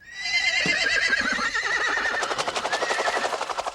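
A horse whinnies loudly and shrilly, the call wavering up and down, over the pulsing chop of a helicopter rounding up wild horses on rangeland, the chop growing more prominent toward the end.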